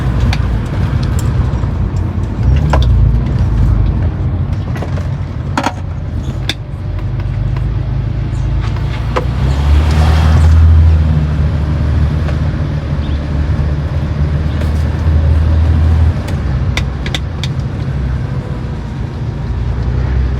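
2009 BMW 330i driving on the road, a steady low engine and exhaust drone from inside the car with occasional clicks and a swelling pull around the middle, loud and continuous.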